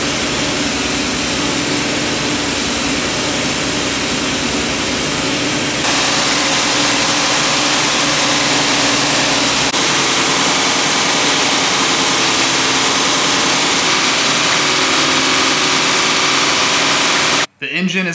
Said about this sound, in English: So I'm gonna let it idle and warm up the temp